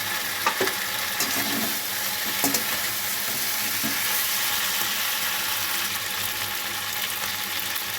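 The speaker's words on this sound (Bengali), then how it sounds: "একদম আঁচটাকে লো করে দিয়ে আমি এইগুলোকে সব নেড়ে ছেড়ে দিই।" Chicken pieces for chicken 65 fry in sauce in a pan over low heat, a steady close sizzle running throughout with a few soft stirring scrapes, no voices.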